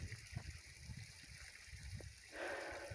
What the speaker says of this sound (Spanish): Hay agua aquí, en este arroyo.